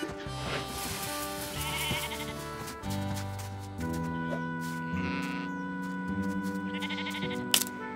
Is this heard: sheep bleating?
yes